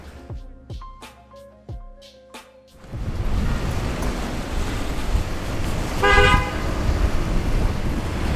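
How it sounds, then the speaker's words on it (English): Cars strain up a snowy hill in Park Slope, Brooklyn, during a nor'easter snowstorm. A few short horn toots come first, then a steady wash of engine and spinning-tire noise, with another horn blast midway. "these cars are really struggling to get up the hill here in Park Slope"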